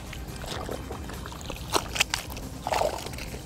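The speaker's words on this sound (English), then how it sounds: "you're gonna rinse it in the clean rinse water" A car wash mitt is dunked and swished in a bucket of clean rinse water, giving close, irregular sloshing and splashing bursts, louder near the end.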